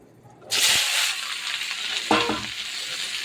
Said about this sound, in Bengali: এই শিমটা আমি এবার তেলে দিয়ে দেব